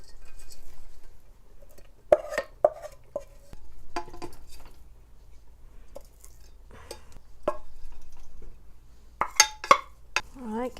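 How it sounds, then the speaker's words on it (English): Lentils, quinoa and vegetables stirred in a stew pot, with sparse close clinks of a spoon against the pot and soft scraping strokes spaced irregularly over a quiet background. "get my grains stirred in real good with my veggies"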